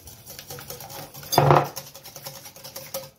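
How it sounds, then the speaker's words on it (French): Quiche filling of cream and other ingredients mixed by hand in a bowl, a utensil scraping and clinking against the sides in a steady rhythm, with one louder burst of clattering midway, close up and with no talking. "on mélange le tout"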